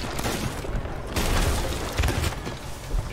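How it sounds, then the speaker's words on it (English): Cannon fire and impacts in a Sea of Thieves naval battle between a sloop and galleons, a loud dense barrage of booms and crashes with a few heavier blasts and faint talk underneath. "Sending out cannons."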